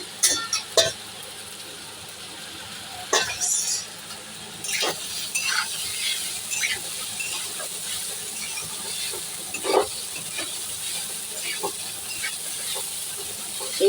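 Sago hits a hot pan of lightly fried ingredients and sizzles with a steady bright hiss, broken by a few sharp clanks and scrapes of stirring, with no talking over it.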